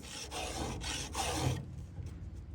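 A square ground chainsaw chain is hand filed in several quick rasping strokes, close and fairly quiet, then a softer scraping tail.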